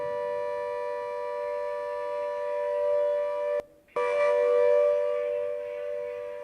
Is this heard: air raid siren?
yes